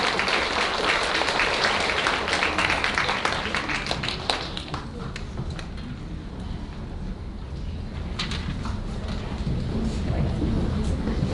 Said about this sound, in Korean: 박수하시면서 시장 맞이하겠습니다